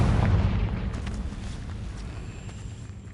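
A Confringo blasting spell explodes in Hogwarts Legacy, a loud deep boom at the start that rumbles and fades away over a few seconds with no talking.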